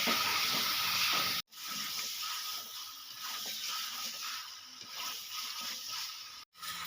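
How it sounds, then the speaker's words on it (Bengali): Chicken sizzles steadily in a spiced masala for Kashmiri-style chicken kanti, a continuous close frying hiss broken by two brief cuts to silence. "এবার আমি দিয়ে দেবো চিকেন পাঁচ থেকে ছ মিনিট আমি ভালো করে কষিয়ে নেব"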